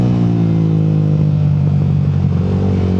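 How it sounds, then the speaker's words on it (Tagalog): Yamaha Sniper motorcycle exhaust droning loud and close at a steady idle-to-cruise rumble with rich low harmonics, alone with no voices. "naririnig niya yung tambucho ng motor ko"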